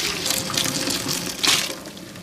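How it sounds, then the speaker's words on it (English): Water gushing as cooked pasta is drained in a home kitchen, a steady close pour with a brief louder surge near the end. "What you do is you drain the pasta."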